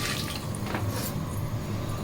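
Water pours steadily into a large cooking pot meant for about three kilos of rice for jackfruit biryani, a continuous close rushing wash with no talk.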